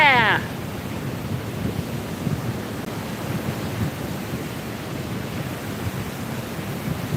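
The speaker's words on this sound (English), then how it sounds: "We are here at the damn waterfall!" Waterfall in Minas Gerais, Brazil, a loud, broad, steady roar of falling water filling the whole scene, with a brief shrill sound at the very start.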